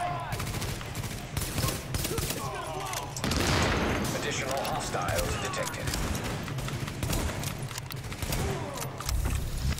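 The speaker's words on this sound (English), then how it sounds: "I appreciate the cover fire." Sustained automatic covering fire in the shooter game The Division, rapid bursts rattling continuously for ten seconds with a louder volley midway, while players talk over the gunfire.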